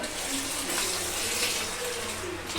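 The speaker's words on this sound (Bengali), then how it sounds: "বেশি জল দিইনি একটু জল দিয়েছি" A little water is poured into a pressure cooker, making a steady, close splashing gush that lasts the whole moment.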